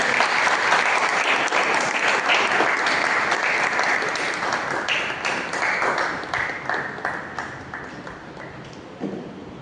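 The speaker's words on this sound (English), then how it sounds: "let us welcome with a huge round of applause, Toastmaster Rita." Enthusiastic audience applause at a Toastmasters club meeting, welcoming the next speaker; dense, steady clapping that stays loud for nearly ten seconds and thins slightly toward the end.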